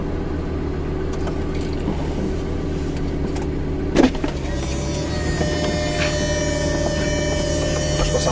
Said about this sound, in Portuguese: Vamos abrir aqui a capotinha.